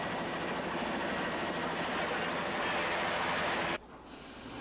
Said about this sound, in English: Then the pilot started the engines.